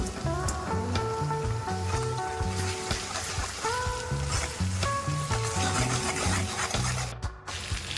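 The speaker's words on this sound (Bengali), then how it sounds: "কাঁচা লঙ্কা দিয়ে খানিক্ষণ নাড়াচাড়া করে নিচ্ছি" Green chilies and ground spices being stir-fried in a pan for chilli chicken, a continuous close sizzle under repeated scraping and stirring strokes, with no one talking.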